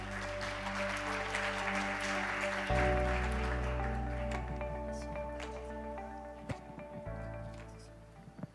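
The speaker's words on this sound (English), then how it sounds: "Please give a big round of applause." Audience applause at the 2023 Korea Eureka Day Eureka Academy event, steady clapping from a crowd held over bright music or tones, swelling briefly around the middle and fading toward the end.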